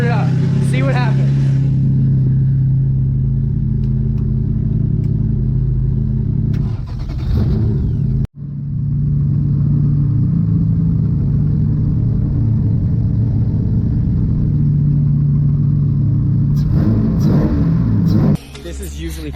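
A twin-engine Mazda MX3 fitted with oversized injectors idles loudly close by, a steady low engine drone with brief revving surges, one abrupt cutout, and a person talking over it.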